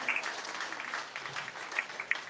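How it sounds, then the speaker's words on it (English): Faint, distant applause from the crowd at a breeding beef cattle show ring for two exhibitors, a soft patter of clapping with a few sharper claps standing out. "give those two exhibitors a nice round of applause"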